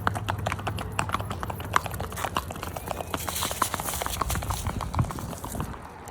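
Horse hooves clop in a steady rhythm on a walk with dogs, a series of close, crisp hoofbeats that carries on throughout, with faint voices in the background.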